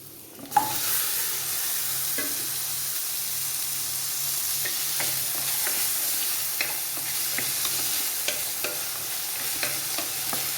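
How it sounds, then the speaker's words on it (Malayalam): Onion, carrot, raw plantain, okra and beans sautéing in a pan for vegetable curry, a close continuous sizzle with an opening clank and repeated scraping stirs and light taps of a spoon. "നമ്മുടെ പച്ചക്കറികൾ ഇവിടെ വഴന്ന് വന്നിട്ടുണ്ട്"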